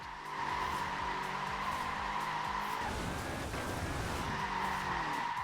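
A car in Forza Horizon 4 drifts in third gear, its tires skidding and squealing in a loud, unbroken screech that holds steady for several seconds over the engine drone.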